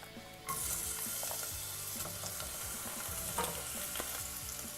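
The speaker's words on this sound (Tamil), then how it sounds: "இப்போது வெங்காயம் வந்து நல்லா வதங்கட்டும்." Long-sliced onions drop into hot oil with spices for a vegetable pulao and burst into a loud, steady sizzle, with occasional stirring scrapes close up and no voices.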